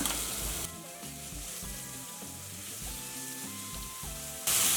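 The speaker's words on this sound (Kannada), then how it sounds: "ಜೀರಿಗೆ ಎಲ್ಲ ಫ್ರೈ ಆಗಿದೆ ಪೇಸ್ಟ್ ಹಾಕೊಳ್ಳೋಣ ಹಸಿಮೆಣಸಿನ್ಕಾಯ್ದು ಲೋ ಫ್ಲೇಮ್ ಇಟ್ಕೊಳ್ಳೋಣ" Green chili paste with cumin fries over a low flame in a pan, a steady hiss of sizzling that runs unbroken, with a tuneful melody playing underneath.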